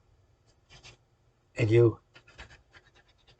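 The side of a pencil is rubbed over the raised hull planking of a 1/350 Minicraft plastic model of the RMS Titanic, giving faint, close scratchy strokes with one brief louder squeak, mixed with a few spoken words.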